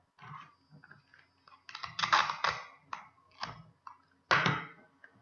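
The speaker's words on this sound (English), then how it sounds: "I'm just going to be wrapping around and taping the two pieces together." While a book is gift-wrapped, tape and paper crackle and tear in quick irregular bursts, several sharp rips standing out against near silence.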